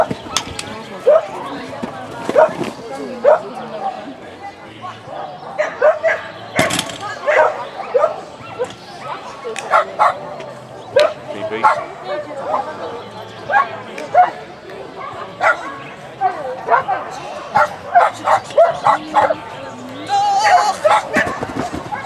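A dog gives repeated close barks, yips and whimpers in irregular bursts throughout, with people talking in between.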